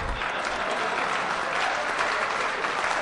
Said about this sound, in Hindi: प्रताप फौजदार ताली बजा